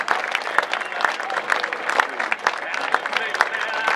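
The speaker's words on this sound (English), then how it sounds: "you receive that flag with a lot of emotion and some great hand clapping" A rodeo crowd claps steadily for the Kansas flag presentation, dense hand clapping swelling and holding throughout, with a voice speaking over it.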